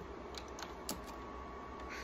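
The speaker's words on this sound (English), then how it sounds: "I'm typing with one hand" Quiet keyboard typing with scattered keystrokes, tapped out one-handed while sourcing items to resell, faint and steady over a low background hum.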